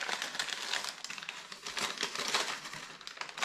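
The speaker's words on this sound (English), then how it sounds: "And I will unwrap it for you." Plastic or paper wrapping on a package crinkles and rustles continuously as it is opened up close, a dense, steady crackle with no voices.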